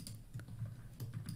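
Someone types quietly on a computer keyboard, with a few soft, irregular key clicks and taps close by against a faint room hiss.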